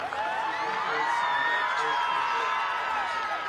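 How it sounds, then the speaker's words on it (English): A crowd at a high school football game cheers and whoops steadily from a distance, a continuous wash of shouting and applause with sustained voices throughout. "And he's going to get a round of applause from everybody."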